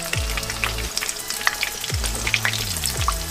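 Cornflake-coated chicken popcorn deep fries in hot oil, bubbling and crackling loudly with scattered sharp pops, while a low melodic tone plays underneath.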